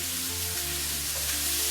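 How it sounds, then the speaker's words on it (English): Food sizzles in a frying pan with a steady, close crackling hiss, while faint tonal background sound plays underneath. "So this is a beautiful sizzle."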